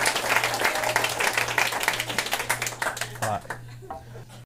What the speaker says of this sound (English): Are you cheering for me still being here?